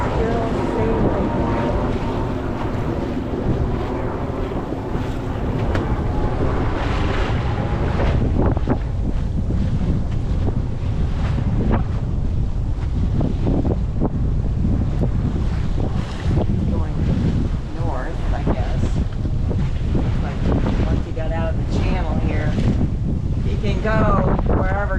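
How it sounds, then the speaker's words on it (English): A sailboat under way at sea overnight, with steady wind buffeting the microphone and water rushing past the hull for the whole stretch, while people talk intermittently over it. "Yes, we are still sailing."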